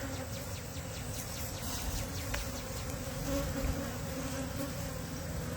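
Honey bees hum in a dense, steady drone around a beehive, a close, even buzz that holds without a break.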